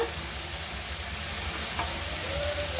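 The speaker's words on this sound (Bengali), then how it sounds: "আমি সব মশলা এড করে কষিয়ে নেব ডাটাগুলো" Vegetable stalks sauté with turmeric, chili and coriander powder in a pan, giving a short burst of steady sizzling with a faint scrape of stirring near the end.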